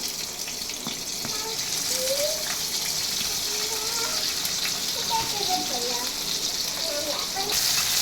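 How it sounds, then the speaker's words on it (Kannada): Onion and green chilli tempering dropped into hot oil, a steady bright sizzle and hiss of frying running continuously throughout, with a voice talking faintly over it. "ಇವಾಗ ಕಾದಿರೋ ಎಣ್ಣೆಗೆ ಈರುಳ್ಳಿ, ಹಸಿಮೆಣ್ಸಿಕಾಯಿ ಒಗ್ಗರಣೆ ಹಾಕೊತಾ ಇದ್ದೀನಿ."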